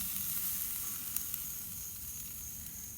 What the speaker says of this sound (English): the grill's running just a little bit over 400. And it's time to put these chicken legs on.